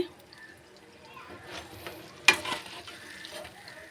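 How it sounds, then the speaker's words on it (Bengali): Potato bun mixture sizzles steadily in a frying pan for a crispy potato-and-bread snack, with a sharp scrape or clatter of stirring midway and a soft background murmur. "এইভাবে সব ভেজে নেব।"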